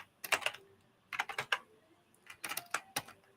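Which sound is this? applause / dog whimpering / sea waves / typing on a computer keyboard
typing on a computer keyboard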